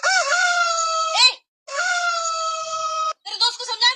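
A rooster crows twice in long, loud, close calls in an early-morning rural setting, followed by a shorter, choppier call.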